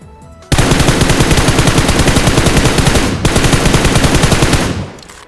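Sustained automatic gunfire from a scoped rifle in PUBG Mobile, a loud rapid rattle of shots lasting about four seconds with a brief break partway, then fading out.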